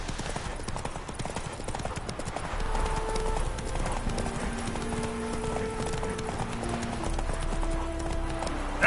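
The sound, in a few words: horse galloping in video game The Witcher 3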